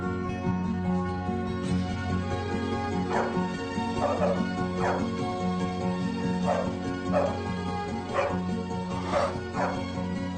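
A dog gives a string of short, yipping barks and whimpers at a fairly even pace, moderately close, over a steady low background hum.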